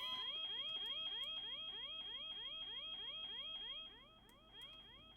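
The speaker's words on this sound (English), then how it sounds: "Why is there like alarm going off?" A video game fire alarm sounds in a fast, repeating rising whoop over a steady high tone, loud and continuous, with a brief dip near the end and no talking.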